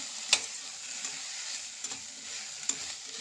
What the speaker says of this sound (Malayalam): ഇഞ്ചിയും ചതച്ച് വെച്ചത് നമുക്ക് ഒരുമിച്ചിടാം. നന്നായി ഇളക്കി കൊടുക്കാം.